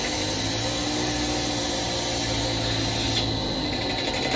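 Air rushing into the vacuum line of a GEA 24/48 milking parlour as the vacuum test tube is pulled off, a loud constant hiss with a low mechanical hum beneath, steady throughout.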